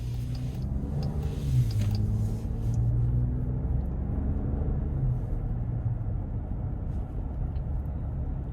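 A 2026 Jeep Grand Wagoneer Summit with the Hurricane engine accelerates onto an interstate, heard from inside as a smooth, low engine rumble that swells briefly and then settles into steady road noise.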